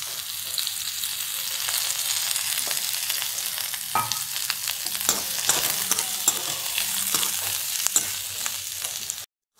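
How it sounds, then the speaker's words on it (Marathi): Chopped onion frying in a spoonful of oil in a pan, a steady close sizzle with occasional stirring scrapes and clicks, continuous for most of the stretch before cutting off abruptly at the end; no voices. "कांदा ना पूर्ण असा लूज पडेस्तोपर्यंत भाजायचा।"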